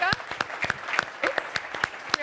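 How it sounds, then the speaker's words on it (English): An audience at a green-business conference applauds a contest winner, with steady clapping close by and a voice speaking over it. "Let's give a round of applause to our winner, Priyanka."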